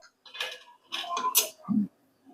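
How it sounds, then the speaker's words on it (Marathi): A knife chops green chillies finely on a board for tomato chutney, giving a handful of quick, close, dry taps in small clusters with short pauses between them. "आता बारीक बारीक आपण मिरच्या कापून घेऊया."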